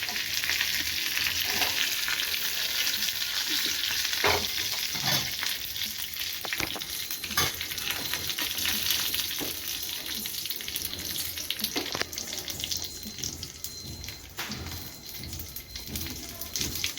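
Curry leaves and dried chillies frying in hot oil for a chutney tempering, a steady loud crackling sizzle throughout with sharp pops and spatters, no talking.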